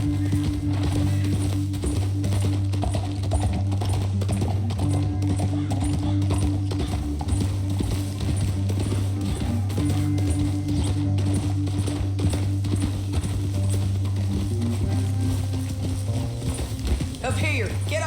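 Horses gallop with steady, continuous hoofbeats in the Red Dead Redemption 2 video game, loud and close under a low musical drone, with characters talking over the riding.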